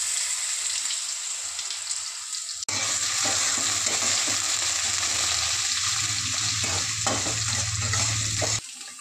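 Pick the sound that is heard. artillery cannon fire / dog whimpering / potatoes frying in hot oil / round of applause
potatoes frying in hot oil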